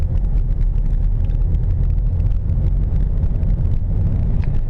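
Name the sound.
car interior while driving, no music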